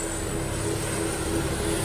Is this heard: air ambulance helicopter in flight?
yes